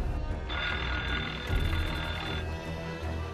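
A telephone rings in the opening scene of the horror film Scream, a bright electronic trill that sounds mid-distance over a low background hum.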